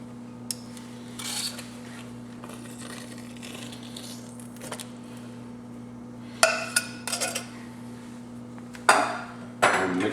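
Refried beans stirred into cooked red beans in a crockpot, scattered scraping and clinking spoon strokes against the pot over a steady low hum, with a few louder bursts toward the end.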